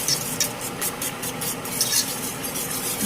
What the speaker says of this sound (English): I'm gonna mix it some more